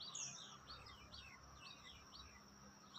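Birds chirp in the morning, a series of quick, faint, high tweets repeating over a quiet outdoor background with a soft insect-like hum.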